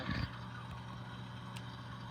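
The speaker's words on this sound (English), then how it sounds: "You guys can already hear the engine is firing up." An NS HO scale model locomotive's sound system starts up its engine effect, settling into a steady, low diesel-style drone after a brief louder burst at the start.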